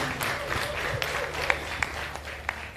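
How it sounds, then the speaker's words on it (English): An audience at a sales workshop and expo claps steadily in a dense, continuous burst of applause, with a few sharper claps standing out. "Let's give a big round of applause, ladies and gents."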